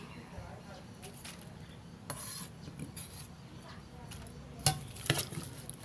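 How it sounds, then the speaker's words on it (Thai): Soft scraping and rubbing of salad ingredients, including ground pork and chopped vegetables, being tossed in a bowl, with a few sharper clinks near the end, quiet and close. "ผสมทุกอย่างให้เข้ากันค่ะ"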